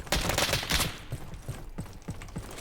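Rapid gunfire rattles in a Roblox shooting game, a loud burst of fast shots at first, then quieter spaced pops continuing over the rest.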